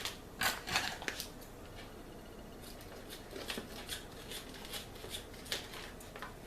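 Someone trims a plastic package open with a string of faint, crisp snips and crinkles at close range, spaced irregularly, with no talking.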